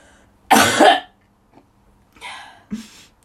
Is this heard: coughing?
yes